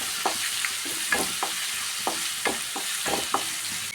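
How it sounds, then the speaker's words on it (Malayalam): Cumin seeds frying in hot oil in a pan, a steady sizzle broken by repeated sharp crackles and pops spaced irregularly across the few seconds, close and fairly loud with no talk. "കാൽ സ്പൂൺ ചെറിയ ജീരകം നരിയതായിട്ടൊന്ന് ഫ്രൈ ആയി കിട്ടണം"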